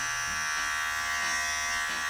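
YiLFo electric hair clippers run as a steady, close buzzing hum with a high whine, loud and unbroken for the whole stretch, with no talking.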